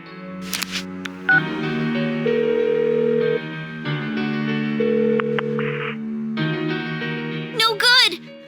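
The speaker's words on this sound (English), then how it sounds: "Give her another call." A phone call is dialed in Persona 4 Golden: a series of electronic keypad tones followed by repeated steady ringback tones, with short chirpy interface blips at the start and end.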